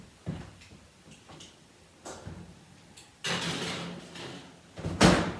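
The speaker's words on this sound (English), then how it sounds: "I'm going to stick this in the oven." A tray of almond cookies goes into a kitchen oven, with scattered light knocks and clatters, then a louder rumbling slide and a sharp bang near the end as the oven door shuts, close by and with no talking.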